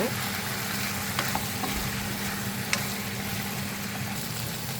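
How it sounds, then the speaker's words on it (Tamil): Sliced onions and ivy gourd frying in a pan, a steady soft sizzle with a few faint clinks of stirring, at a low, even level and with no one speaking. "வெங்காயம் போட்டோன்னே நல்லா கிண்டி விடுங்க கிண்டி ஸ்லோவில் வச்சுருங்க"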